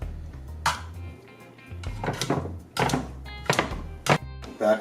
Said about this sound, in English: Just digging in there, just chop it up.